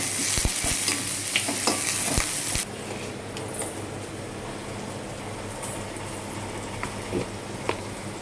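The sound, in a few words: stirring ginger-garlic paste frying in pan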